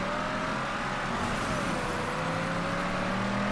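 A car drives steadily in Mafia 3, its engine a continuous close whir and rumble with a slight pitch shift partway, heard alone without talk.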